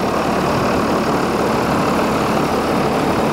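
Bucket truck salvaged from a scrap yard, its engine idling steadily with a loud, even low rumble throughout, close by and with no talk over it.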